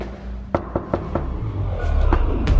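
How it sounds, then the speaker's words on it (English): Four sharp knocks on a door sound in quick succession in a video game trailer for Black Ops 3 Zombies Chronicles. They sit over a low rumbling score, with another faint thud near the end. "There was a knock at the door."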